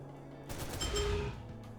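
Gunshots in the tactical roguelike video game Critter Crossfire, a short burst of sharp shots lasting about a second, loud against quiet game ambience.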